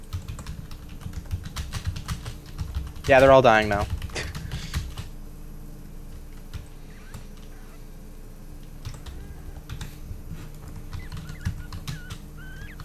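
Computer keyboard typing, quick scattered key clicks running through the clip at moderate loudness, with someone talking and a brief squawk-like game sound early on.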